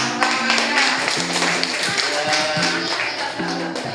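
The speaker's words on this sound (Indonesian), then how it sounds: "Tepuk tangan" A classroom of pupils claps hands together in applause, a dense steady patter of many hands lasting throughout, with a few voices mixed in under the clapping.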